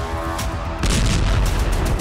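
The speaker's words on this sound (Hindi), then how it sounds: "इस धमाके से पूरा इलाका दहल गया और एसयूवी कार जलकर खाक हो गई।" A car bomb blast destroying an SUV in New Moscow, heard as a sudden loud, deep boom partway through that swells into a sustained heavy rumble, with no voices.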